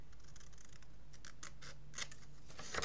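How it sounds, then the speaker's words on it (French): Scissors snip through folded paper to trim away small squares at a fold corner, giving a few soft, close crisp cuts and rustles over a quiet room, with a sharper snip near the end. "on va venir déjà éliminer nos petits carrés qui se sont formés ici d'un seul coup de ciseau"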